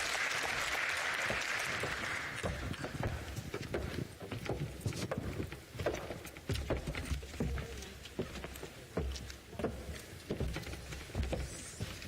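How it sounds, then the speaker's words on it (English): An audience applauds a discussion panel, clapping heard at moderate distance that starts strong and then thins into scattered, uneven claps over about twelve seconds. "If you could just give them a round of applause."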